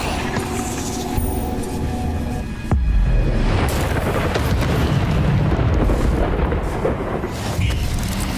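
Expelliarmus spell effect in the game Hogwarts Legacy: a sharp magical crack followed by a heavy, rumbling boom that lingers loudly over continuous game ambience.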